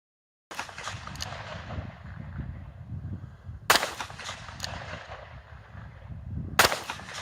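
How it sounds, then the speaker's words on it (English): .357 Magnum hollow point rounds fired from a revolver at a bowling ball, with three sharp, loud reports spaced a few seconds apart and noisy outdoor rumble in between. "So I'm going to see if 6 shots of 357 Magnum hollow point might do the job."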